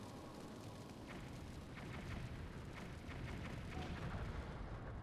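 Explosion in Twilight Princess HD: a broad, rumbling roar that swells and holds for several seconds, dense and noisy with no speech over it.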